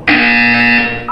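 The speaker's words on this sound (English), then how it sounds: "You will hear a buzzer." A single loud, harsh electronic buzzer from the video game Portal 2 sounds steadily for about a second, close and alone, before cutting off.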